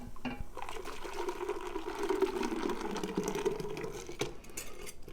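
A whisked eggnog mixture pours into a stainless steel pot, a steady close liquid rush and splash with faint metallic clinks running throughout.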